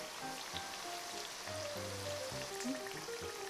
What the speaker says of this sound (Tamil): சிறு தீயில பொன்னிறமாக வறுத்து எடுத்துக்கோங்க.